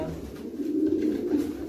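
A long- and medium-distance breeder pigeon hen gives a soft, low coo, close and quiet, in one short burst.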